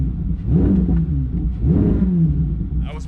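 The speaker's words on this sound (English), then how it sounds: "I'm gonna do a little rev for you" New Chevrolet C8 Z06 Corvette engine revving, with two loud rising blips of throttle close by, each swelling and dropping back to a low rumble.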